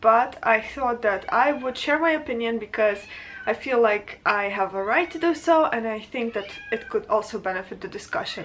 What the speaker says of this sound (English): Please excuse my screaming cat.